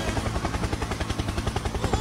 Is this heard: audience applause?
no